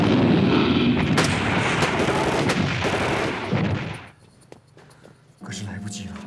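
Artillery cannon fire thunders through a war-drama battle scene, a dense, loud barrage of booms and rumbling blasts that cuts off abruptly, followed by quieter voices speaking.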